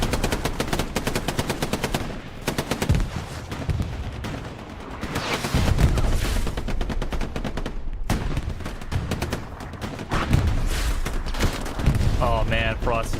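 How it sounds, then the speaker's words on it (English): Machine gun fire in the World War II shooter Hell Let Loose during a competitive match, sustained rapid bursts of automatic shots mixed with distant gunfire and battle noise, with voices talking over it. "Just controlling this line here with the MG."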